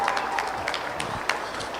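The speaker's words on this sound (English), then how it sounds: "give these exhibitors a big round of applause" Crowd applause at a county fair 4-H/FFA dairy cattle show, steady broadband clapping sustained throughout with faint voices mixed in.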